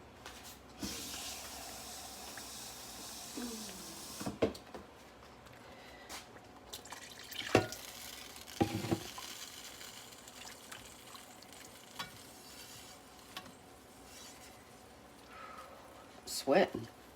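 More water runs and splashes from a kitchen tap during cooking, soft and intermittent with scattered splashes and clunks, under a person talking now and then.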